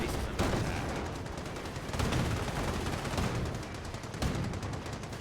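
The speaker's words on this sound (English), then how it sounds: "Firefly firing away." A Sherman Firefly tank fires in Company of Heroes amid dense battle noise, heavy reports punching through continuous gunfire and explosions at a moderate distance.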